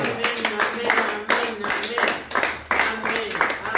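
Church congregation clapping in an irregular rhythm of bursts, with voices calling out over the applause.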